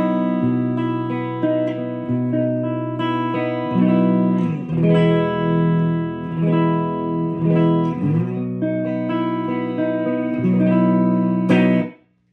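Fender Stratocaster on its middle pickup through a GJIKA 10N amp set clean, ringing chords and picked notes sustaining at moderate volume, close and alone before the final chord cuts off.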